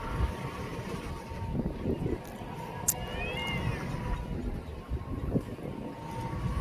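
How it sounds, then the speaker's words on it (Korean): Cats fighting near the Jeodong harbor on Ulleungdo island give out a few meows and a caterwauling cry, fairly faint, over a constant bed of wind and waterfront noise. "저 고양이 싸우는 고양이"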